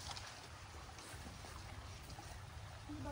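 Water pours steadily into a container outdoors in the Philippines, a soft continuous trickling rush that holds at a low, even level with no talk over it.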